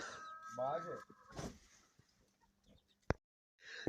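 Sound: hens clucking

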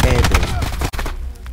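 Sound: gunfire in the video game Black Ops 4

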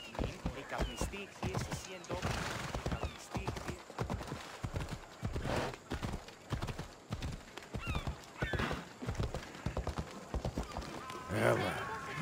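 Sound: horse galloping hooves in video game Assassin's Creed Odyssey

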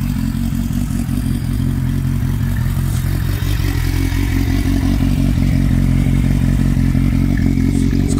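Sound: motorcycle engine with aftermarket exhaust

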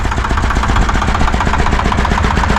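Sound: mini tractor engine running

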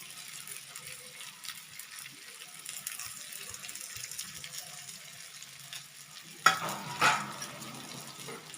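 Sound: stir-frying ridge gourd with spices

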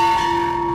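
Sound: bell rung for good luck outside restaurant

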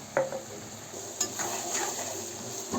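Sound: stirring cumin seeds frying in a pan

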